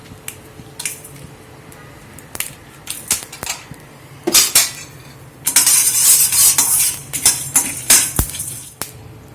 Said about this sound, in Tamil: இப்ப லேசா எல்லாம் அந்த பொரியிற சத்தம் கேக்குது பாருங்க.